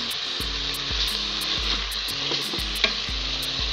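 Plov ingredients, onion among them, stew and are stirred in an open multicooker, giving a strong continuous sizzle with repeated spoon scrapes and a sharp clink near the end.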